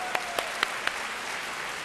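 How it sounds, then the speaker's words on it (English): A room audience applauding a volunteer named Adam during a talk, a soft, fairly distant wash of clapping with a few louder individual claps standing out near the start. "let's give Adam a round of applause"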